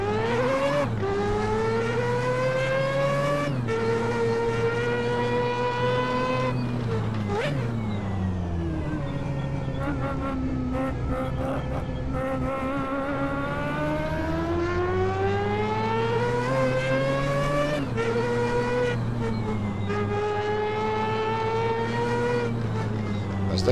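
A Mazda 787B Group C race car in Assetto Corsa near Hunaudières, its rotary engine screaming loudly through repeated upshifts, each gear rising in pitch before dropping and climbing again.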